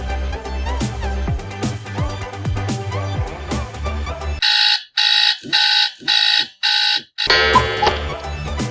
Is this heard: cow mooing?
no